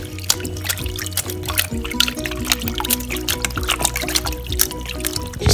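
Bleached hair is rinsed in clean water after soaking in conditioner, giving a steady, fairly close wash of sloshing, trickling and dripping water throughout, with no clear speech.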